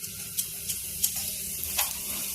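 Whole cumin seeds sizzle in hot oil in a pan, a steady close frying hiss with a few sharp crackles and pops, no talk.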